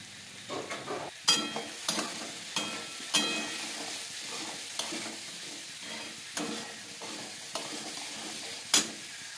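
Vegetables fry in a pan seasoned with turmeric and salt, stirred with a spatula that gives sharp, repeated scraping clacks every second or so over a low, steady sizzle.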